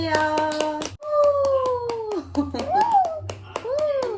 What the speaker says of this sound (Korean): 맛있으면 박수 쳐주세요